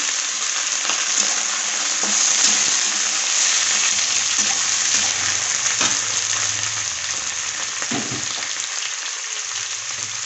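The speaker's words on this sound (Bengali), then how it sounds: "পেঁয়াজটা লাল লাল হয়ে গিয়েছে, কচুরলতি দিয়ে দেবো" Kochur loti (taro stolons) frying in hot oil with onions that have turned reddish-brown: a steady, close, loud sizzle that holds for the whole stretch, broken by occasional stirring scrapes.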